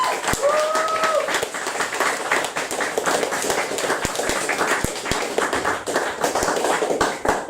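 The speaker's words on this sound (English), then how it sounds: "Big round of applause." Audience clapping for a lineup of poets at a modern poetry night, a steady burst of applause that carries on for several seconds, dense and fairly close.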